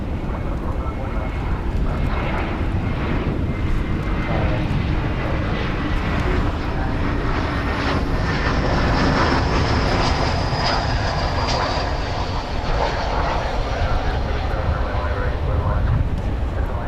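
An Airbus A321 airliner flying at DFW airport gives a loud, steady engine roar that fills the whole stretch, with a faint whine rising partway through.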